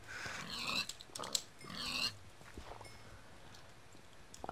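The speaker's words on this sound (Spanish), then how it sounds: "Vamos a matar a los cerdos, que tengo una espada de piedra." Pigs in a sword-fighting survival video game give two loud grunting squeals near the start, followed by quieter scattered thumps and shuffling steps.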